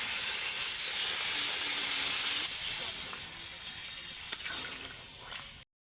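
Water hits a hot pan of sautéed jackfruit and prawns with a loud, sustained steamy hiss that is strongest at first, then eases to a softer sizzle before cutting off.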